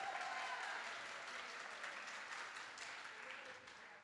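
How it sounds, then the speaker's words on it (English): Audience applause for title sponsors UCI and UCI Health at a Women in Leadership event, a steady wash of many hands clapping, fairly distant and fading slightly toward the end. "Let's give them a round of applause."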